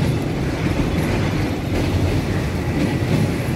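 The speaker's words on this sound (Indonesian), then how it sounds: "Terlihat dari jauh ada satu kereta yang juga melintas yang masuk ke stasiun Manggarai." A commuter train on the railway bridge over the flooded Ciliwung river heading into Manggarai station in Jakarta, a continuous loud rumble with faint wheel clatter and no voices.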